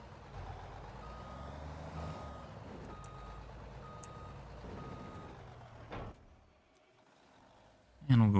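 In a farming game, a truck reverses to hook up to grain beds, its backup beeper repeating at a steady pace over a low engine rumble, followed by a short hiss and a loud clunk near the end.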